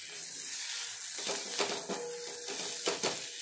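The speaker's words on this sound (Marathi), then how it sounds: "आता इथे परत आपण इथे मिक्स करून घेऊया" Capsicum and coriander powder are stirred in a frying pan, with soft scraping strokes over a faint sizzle, close and low in level.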